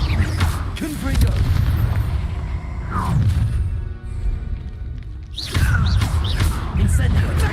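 Fiery Confringo spell blasts in Hogwarts Legacy, heard as repeated loud low booming bursts with whooshing swells, with a shouting voice cutting in over the combat racket.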